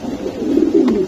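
A pigeon gives a short, low, throaty coo close by, one soft rolling call lasting about a second with no talk over it.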